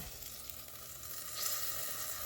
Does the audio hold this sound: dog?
no